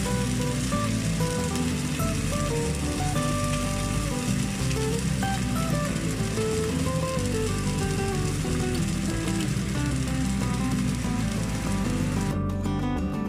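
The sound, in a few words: fish paste frying in pan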